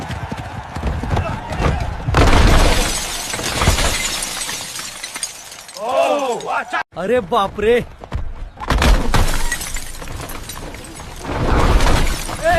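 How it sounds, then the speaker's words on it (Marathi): At a bullock-cart race, a bull smashes a cart apart. Loud crashing and breaking bursts come through a crowd that shouts and exclaims in alarm the whole time. "गाडी फुटली रे"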